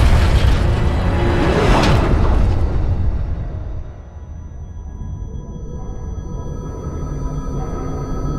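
A heavy rumbling boom with a rushing roar that fades into a lower mechanical drone, loud and close, as a spacecraft crash-lands in Halo Infinite.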